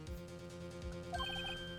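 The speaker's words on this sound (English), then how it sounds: "I heard a phone ringing just now. One of those newfangled ringtones." A cell phone ringtone from the Phoenix Wright Ace Attorney video game, a short chirpy electronic melody of quick rising beeps arriving over a low looping background music bed, brief and clear.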